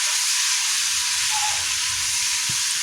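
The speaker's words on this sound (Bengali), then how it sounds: "এবার সবগুলো একসঙ্গে দিয়ে গ্যাসের ফ্লেম লো টু মিডিয়াম করে এবার এটাকে ভেজে নিতে হবে" Onion, tomato and spices frying in a pan over a low to medium gas flame, a loud continuous hissing sizzle close up, steady throughout with no talk.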